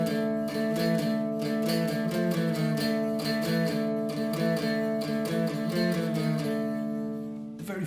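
Electric guitar plays a riff at full tempo: steady, loud repeated phrases with sustained chords, continuous for most of the clip before stopping abruptly near the end.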